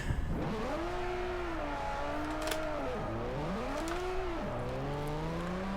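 A drift car in Forza Motorsport 4 revs hard and continuously, its engine pitch climbing and dipping in repeated surges as it slides, loud and close with no talking.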